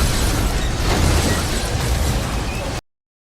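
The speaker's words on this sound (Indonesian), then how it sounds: "Serangan itu dimulai dengan penjahat yang meledakkan peledak yang sudah mereka siapkan." A loud, sustained explosion blast in an action film, with a rumbling low roar that holds steady for a few seconds, then cuts off abruptly into silence.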